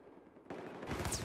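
Gunfire in the video game Battlefield 4 breaks out abruptly after a quiet moment, a dense loud burst of rapid shots that intensifies toward the end.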